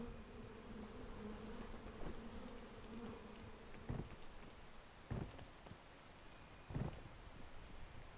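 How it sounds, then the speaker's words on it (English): Buzzing of attacking bees in a video game, a steady insect drone with crackly rain-like texture and a few sharp hits standing out. "Alright, let's get attacked by bees."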